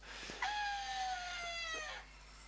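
A pig screaming in the hunting game theHunter Classic, one long drawn-out high-pitched squeal that slowly falls in pitch, fairly clear and close, with no talk over it.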